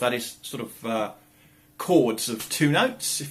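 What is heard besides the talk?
No distinct noise like a dog, phone or traffic.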